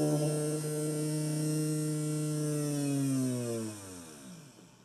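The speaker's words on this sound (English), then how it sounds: "There's the motor dancing around." A small electric model motor runs under a Deltang receiver, a close steady whine with strong harmonics that holds for about three seconds, then slows and fades as the motor winds down.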